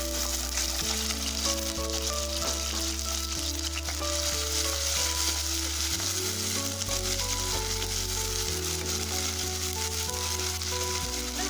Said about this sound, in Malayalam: ഇനി നമുക്കിതിലേക്ക് അരിഞ്ഞു വെച്ചിട്ടുള്ള കൈപ്പക്ക ഇട്ടിട്ടൊന്ന് ഫ്രൈ ചെയ്തിട്ട് എടുക്കാം.